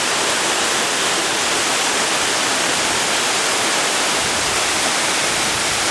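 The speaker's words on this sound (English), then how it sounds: "Standing right here, you can feel the cool air flowing down the river valley and the cool mist from the falls." Steady, dense roar of a waterfall on the Falling Waters Trail, broadband rushing water filling the whole clip at constant loudness, close and uninterrupted with no voices.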